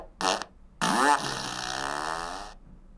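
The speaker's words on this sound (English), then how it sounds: "Is it a fart machine?" A fart machine lets out a short buzzy blast, then a longer sputtering raspberry that holds for over a second before stopping, loud and close with no one speaking over it.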